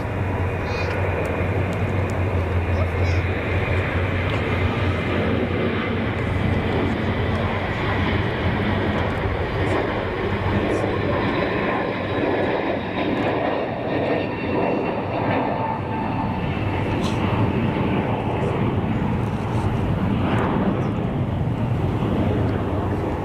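Airliners taking off or landing at Zurich Kloten Airport, a loud continuous jet roar with wind buffeting the microphone across the whole stretch, steady and close.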